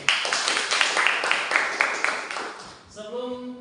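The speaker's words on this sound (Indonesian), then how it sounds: "Tepuk tangan dong." A group of students claps together in a classroom, a dense burst of hand claps fading out after about three seconds, followed by a brief hum of voices.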